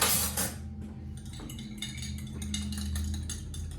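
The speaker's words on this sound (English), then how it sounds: "And I'm going to whisk that together." Lime juice and olive oil whisked together in a bowl, a loud metallic clatter at first, then a run of quick rhythmic clinks and scrapes of the whisk against the bowl.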